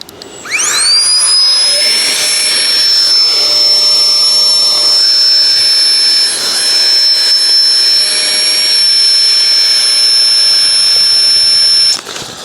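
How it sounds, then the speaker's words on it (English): A FLEXTAIL Tiny Pump 2X electric pump spins up and runs steadily with a loud, high-pitched whine while inflating a camping mattress, then cuts off abruptly near the end. "So we'll just get her going with the pump here."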